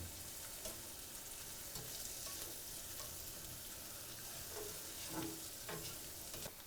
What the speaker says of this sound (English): we're going to put it in here and let them and saute those till they're soft